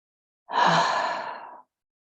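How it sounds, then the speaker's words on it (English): A single long exhale of breath during a cooling breathing practice, close and clear, rising quickly and tapering off over about a second in an otherwise quiet room. "Let's exhale all of that now"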